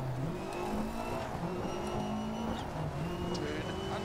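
A rally car drifts through an Argentina stage in the DiRT Rally 2.0 racing game. Its engine snarls and revs close up, with pitch rising and falling as the handbrake is yanked again and again.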